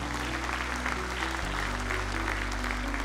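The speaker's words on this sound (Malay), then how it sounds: "Berikan tepukan kepada kesemua tetamu kehormat kita." Audience applause for honoured guests at an official opening ceremony, steady many-handed clapping throughout over a low constant hum.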